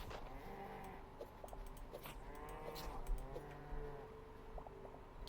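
A cow in the video game Hytale lets out a low, drawn-out moo at moderate distance, faint and alone over a quiet ambient background.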